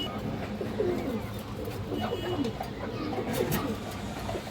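High flyer pigeons coo softly nearby, with low repeated throaty murmurs over a steady background hum.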